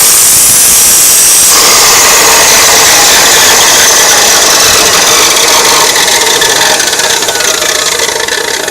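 An abrasive chop saw grinds a tooth of a Woodmizer homemade sawmill blade in one quick, even pass, giving a loud, steady, high-pitched grinding whine under the running motor, with a brief quieter start before the wheel bites.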